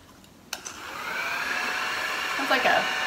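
A handheld mini vacuum's small motor clicks on and spins up into a steady high-pitched whir, with a brief bump of handling noise.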